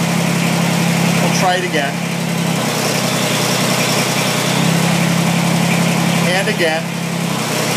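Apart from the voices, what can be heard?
Kubota BX2370 tractor engine running hydraulic loader pump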